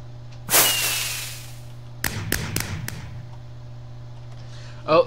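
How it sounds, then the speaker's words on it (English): Fireworks go off outdoors: one loud burst with a whistling trail fading over about a second, then a quick run of four or five sharp cracks close together, with quiet pauses between. "Oh, fireworks are starting."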